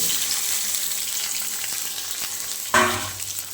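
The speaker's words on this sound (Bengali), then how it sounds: "কড়ার মধ্যে তেল গরম করে নিয়েছি এর মধ্যে দিয়ে দেব আদা কাঁচা লঙ্কা পেঁয়াজ আর টমেটো" Ginger, green chilli, onion and tomato hit hot oil in a wok-style pan, giving a steady close sizzle with a sharper burst of spitting late on, no voices.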